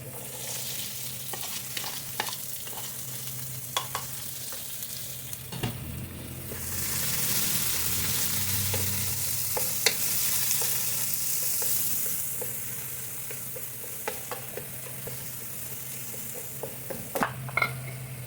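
Minced garlic and onion sizzle and fry in a pan as aromatics for squid adobo, with a spatula scraping and stirring at intervals; the hiss swells louder midway and stays close and continuous, no talking.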